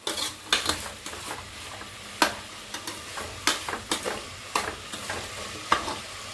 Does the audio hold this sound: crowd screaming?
no